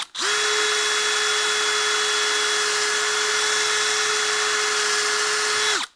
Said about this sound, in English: let's just pre-drill these a little bit